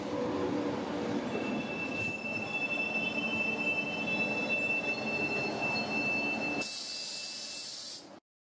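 Passenger train rolling through Frankfurt Hauptbahnhof, an ÖBB Taurus sandwich set, its wheels squealing in a loud sustained high-pitched tone over steady rumbling, then a sudden hiss near the end before it cuts off.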